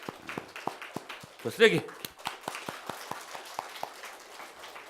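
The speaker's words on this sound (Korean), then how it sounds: "우리 아이들 우리 힘차게 박수로 독려하시고 우리 격려하십시다" A church congregation claps together in a rapid, uneven patter of hand claps that keeps going throughout, with a voice calling out briefly partway through.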